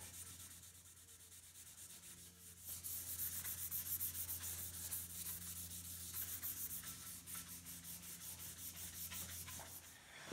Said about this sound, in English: rubbing it into the wood using a cloth that was dampened with the Japan dryer